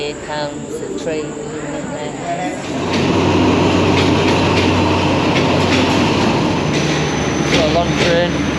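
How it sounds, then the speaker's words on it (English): A long train pulls into a station platform in Thailand, its rumble swelling loud about three seconds in and holding steady with rattling wheels, while people chat nearby. "Here comes the train."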